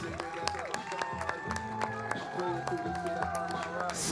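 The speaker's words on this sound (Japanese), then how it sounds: "皆さんメリノール学院に皆さん大きな拍手をお願いします。" Crowd at a 3x3 basketball event claps and cheers for the Maryknoll school team, loose scattered clapping under an ongoing voice and background hum, with squeaking and movement mixed in.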